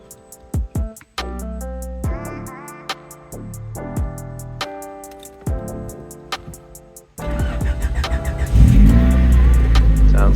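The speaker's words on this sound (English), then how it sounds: "it's time for the first startup in many months" A Honda Prelude is started for the first time in months: scattered clicks and tones come first, then the engine cranks, catches and settles into a loud, close, rough running rumble.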